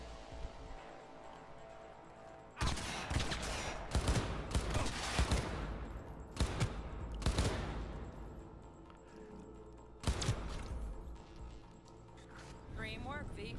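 Gunfire in Cyberpunk 2077 comes in several loud, sharp volleys separated by short pauses, sounding close, with a voice speaking between bursts.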